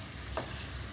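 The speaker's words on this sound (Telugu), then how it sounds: "పచ్చిమిరపకాయలు కొంచెం ఫ్రై అయితే చాలు కదా, మరీ ఎక్కువ ఫ్రై చేయాల్సిన అవసరం లేదు పచ్చిమిర్చి" Green chillies and curry leaves fry in a pan for chicken fry, giving a brief, dense sizzle with a quick stirring scrape partway through.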